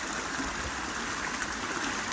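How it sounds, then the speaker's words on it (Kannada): Water flowing along a canal near a hill in rainy weather, a steady broadband rushing and gurgling that stays even and close throughout, with no voices. "ಆ ನೀರಿನ ಸೌಂಡ್ ಕೇಳ್ತಾ ಇದ್ರೇ ಮಜಾ."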